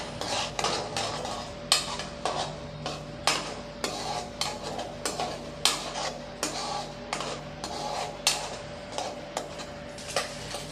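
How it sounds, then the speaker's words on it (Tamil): A utensil stirs eggs frying in a pan for hotel-style egg fried rice. It makes a regular run of about twenty sharp metallic clinks and scrapes against the pan over a faint, steady hum. "இப்போ நல்லா கிண்டி விட்டுக்கலாம்"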